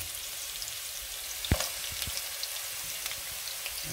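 Ginger and garlic frying in hot oil, a steady soft sizzle with a few sharp pops and stirring knocks, close and moderately quiet, no voices.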